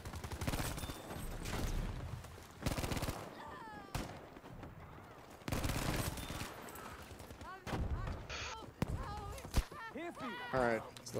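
Gunfire in the Battlefield V video game comes as bursts of loud shots and explosions. Other game sounds and a voice talking over it fill the gaps between bursts.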